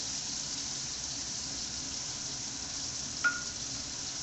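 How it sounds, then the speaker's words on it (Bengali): Two medium-sized chopped onions fry in oil with nigella seeds, giving a faint, even sizzle that runs throughout, broken once by a brief soft clink near the end. "আমার পেঁয়াজ ভাজা হয়ে গেছে।"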